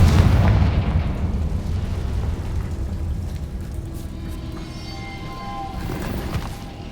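Confringo spell explosion in the Hogwarts Legacy video game, a heavy booming blast at the start that decays into a long rumbling roar with faint whistling tones near the end.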